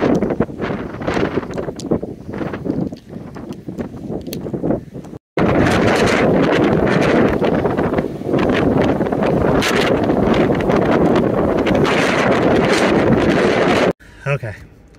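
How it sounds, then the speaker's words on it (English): Strong, gusty wind buffets the microphone outdoors on an exposed hill, a loud continuous roar with rustling that briefly drops out and returns, with no talking. "It's super windy out"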